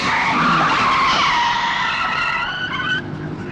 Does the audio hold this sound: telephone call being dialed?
no